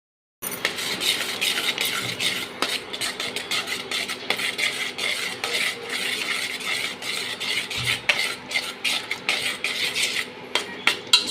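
A metal spoon stirs and scrapes ginger-garlic masala as it sautés in a pan for fish curry, giving a steady run of close, repeated clinks and rasping scrapes with no talking.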